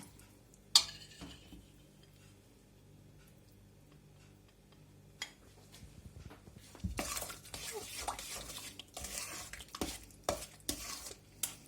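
A spoon scrapes and knocks around a bowl in brisk, irregular strokes, stirring a thick cookie batter with melted ingredients after a quiet stretch with a few light taps.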